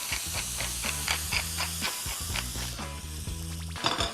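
Onions and garlic hit hot olive oil in a pan, giving a loud close sizzle and hiss with quick crackling bursts and a rhythmic stirring pattern underneath, no talking.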